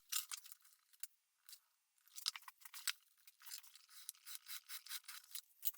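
Leather for a wooden joiner's workbench leg vise is cut and its edges rounded by hand, making close, crisp, irregular snipping and scraping bursts separated by short quiet gaps, with no talking.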